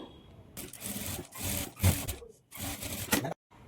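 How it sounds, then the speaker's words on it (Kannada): A sewing machine stitches thread piping onto a blouse back neck in several short bursts of whirring and clatter, separated by brief pauses and ending in silence, close and without talk. "ಥ್ರೆಡ್ ಪೈಪಿಂಗ್ ಸ್ಟಿಚ್ ಮಾಡ್ಕೊಳ್ಳೋವಾಗ ಸ್ಟಿಚ್ ಮಾಡ್ಕೊಂಡಿರ್ತೀವಿ ಅಲ್ವಾ ಅದ್ರ ಮೇಲೇ ಸ್ಟಿಚ್ ಮಾಡ್ಕೊಳ್ತಾ"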